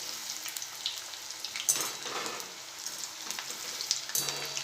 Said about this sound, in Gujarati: આ રીતે પલટીને આપણે સરસ ક્રિસ્પી થાય ત્યાં સુધી તળી લઈશું